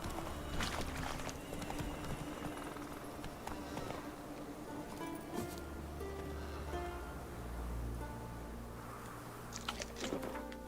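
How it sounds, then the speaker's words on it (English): Hooves clip-clop rapidly as several wild horses gallop past in The Witcher 3: Wild Hunt, a steady drumming rhythm over low rumbling background noise. "A bunch of wild horses."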